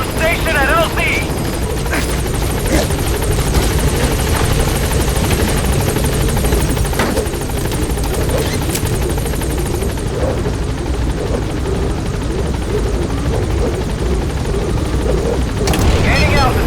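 A helicopter in Metal Gear Solid V arriving at a landing zone thumps loudly and steadily with constant rotor beat and turbine whine, while voices talk over it.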